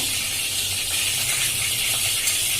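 Cumin and fenugreek seeds crackling and sizzling in hot oil for tempering, a dense, steady hiss with fine popping throughout, close by and fairly loud.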